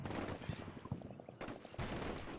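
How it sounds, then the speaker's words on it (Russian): Video game gunfire in Combat Mission: Shock Force: a burst of rapid shots, then sharp loud blasts with hard cutoffs, close and punchy. "Выстрел и промах."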